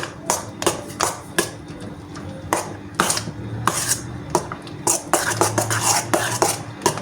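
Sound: stirring cheesecake filling with a spoon

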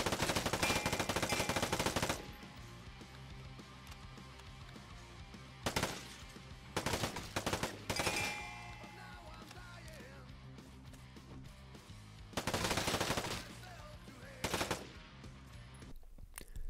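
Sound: M4 rifle gunfire in the video game Vigor

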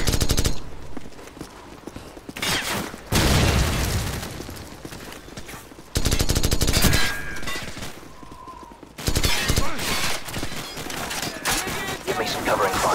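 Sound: gunfire in Call of Duty 4: Modern Warfare video game

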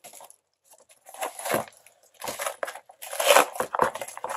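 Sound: tearing open cardboard packaging

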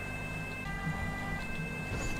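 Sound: police car siren in the video game GTA

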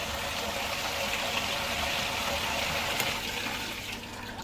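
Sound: water butt pump pumping water in a bucket

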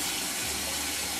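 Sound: washing cut vegetables in a sink of water

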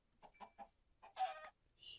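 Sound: chicken clucking in a video game

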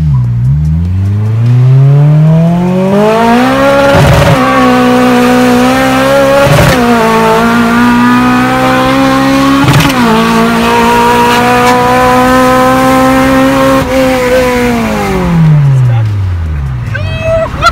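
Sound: drag race car nitrous pull, engine revving

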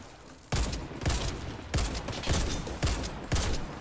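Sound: gunfire in the video game Warface

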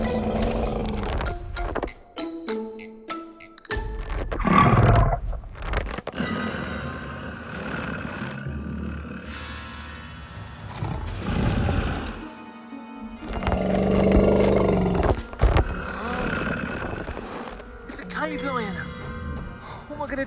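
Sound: cave lion roaring

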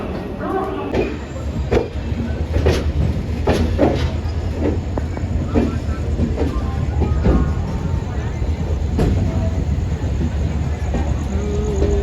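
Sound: passenger train running

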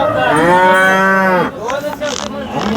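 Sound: cow mooing

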